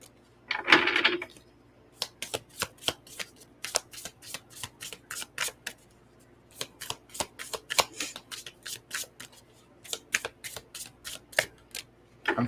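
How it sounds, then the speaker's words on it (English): Tarot cards are shuffled by hand in a long run of crisp, rapid riffling bursts with short pauses between, close and fairly quiet in a still room. "I want to just pull the card, but Spirit's telling me to shuffle."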